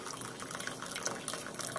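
Brewed French press coffee pouring out of the glass carafe into a cup, a steady continuous trickling splash heard up close and alone, with no talking.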